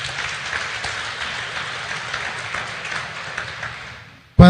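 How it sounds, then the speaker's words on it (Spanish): A church congregation claps for the Lord, a dense, steady wash of many hands sustained for about four seconds, then fading before a sudden loud knock at the end. "Démosle un fuerte aplauso al Señor."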